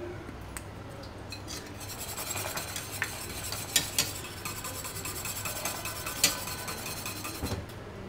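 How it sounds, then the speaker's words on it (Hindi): A spoon stirs an ice cream base of milk, cornflour and cardamom in a pot, giving close, continuous scraping and rubbing with a few sharper clinks against the metal. "अब इसको अच्छी तरह मिक्स कर लेंगे।"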